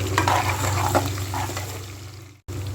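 Ginger and garlic sizzling lightly in a pan, frying as a steady soft hiss with a few splashy crackles, cut by a brief gap just before the end.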